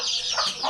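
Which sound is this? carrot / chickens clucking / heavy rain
chickens clucking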